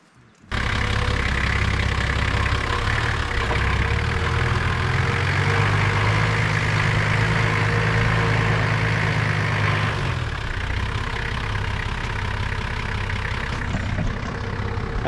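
A Nissan Patrol 4WD idles steadily at close range, a continuous low engine rumble with an even drone that shifts slightly partway through, with no talk over it.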